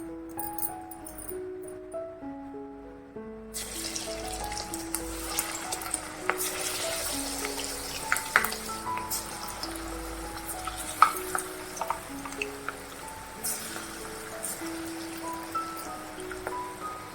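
Moong dal pakoda (bhaji) frying in hot oil over low-medium flame in a home kitchen, a steady soft sizzle and crackle with occasional stirring clinks, accompanied by background music throughout.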